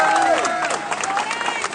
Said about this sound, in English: give me another round of applause for him